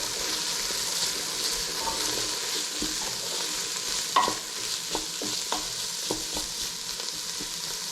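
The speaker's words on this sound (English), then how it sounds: "Right hand stirs, left hand chops." A spoon stirs lentil soup in a large pot, a steady scraping and swishing with a few sharper knocks against the metal, heard close and alone over a constant sizzling background.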